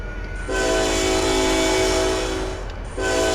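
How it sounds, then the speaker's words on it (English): A model railroad train horn blares loudly for about two and a half seconds at a level crossing, cuts off briefly, then sounds again over a constant rumble. "We'll have to make sure that we sound the horn loud and clear."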